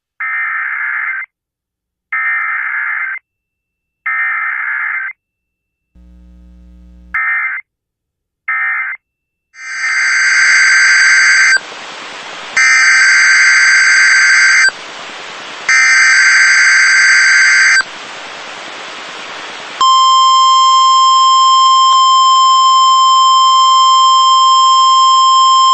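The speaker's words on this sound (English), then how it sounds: "This is a test of the emergency alert system." An Emergency Alert System test sounds loud and electronic: several short bursts of harsh data tones, then a long steady piercing two-tone alert broken by brief gaps, ending in a lingering single tone.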